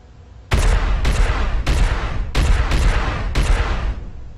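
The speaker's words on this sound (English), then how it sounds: "Ooh, somebody's on a main gun. That thing is loud." Heavy ship-mounted main gun in Star Citizen fires a run of loud, booming shots at an uneven pace, about six blasts over four seconds, each with a long rumbling tail and no voices.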